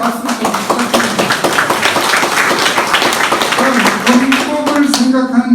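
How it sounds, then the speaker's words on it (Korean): A crowd applauds with dense, steady clapping, loud and sustained throughout, with a voice briefly audible over it. "나오실 때마다 박수를 부탁드립니다"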